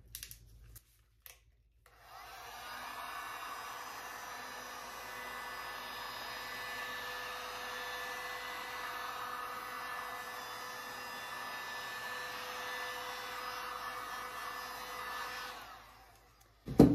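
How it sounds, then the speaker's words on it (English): A heat gun blowing hot air over acrylic pouring resin, a steady, fairly quiet whirring hiss that starts after a couple of seconds and runs evenly before switching off near the end. "So now I'm going to heat it up with the heat gun so that it is easily spreadable."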